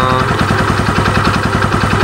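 A Yamaha Vega ZR motorcycle engine runs close and loud with a rough, rapid pulsing idle, alone without talking.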